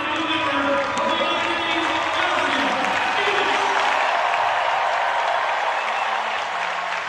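A large stadium crowd at a women's sprint meet applauds and cheers steadily throughout, a dense, loud wash of clapping with voices mixed in.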